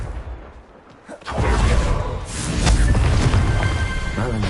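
Confringo blasting spell cast in the video game Hogwarts Legacy, heard as a sudden loud burst that swells into sustained booming, crackling explosions and rumble lasting several seconds.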